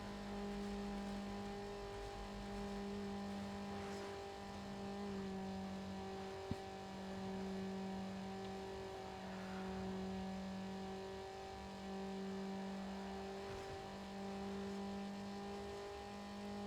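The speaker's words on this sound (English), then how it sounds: "The car noises really let this game down." A synthetic-sounding car engine drones at steady revs, rising and falling slightly, fairly quiet with a brief click partway through.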